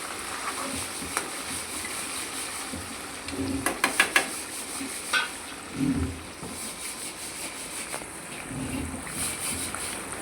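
Curry leaves dropped into hot oil for a tamarind pulihora tempering: a steady frying hiss that breaks into sharp crackling bursts midway, then settles back to a low sizzle.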